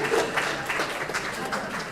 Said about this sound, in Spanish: Un aplauso para los vallenarinos.